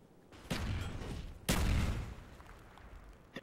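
A grenade blast in Call of Duty: Black Ops search-and-destroy, heard as two loud booming bursts about a second apart, each with a long rumbling tail, and no voices over them.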